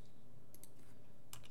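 Quick keyboard shortcuts are tapped on a computer keyboard while modelling a vintage radiator in 3D software, a few faint isolated clicks and short key bursts over a quiet background.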